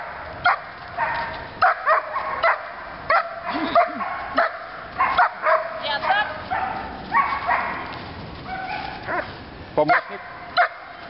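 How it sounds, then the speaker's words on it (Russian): Several dogs bark in sharp bursts, yipping and whining between barks, fairly close and loud throughout. "Собаки."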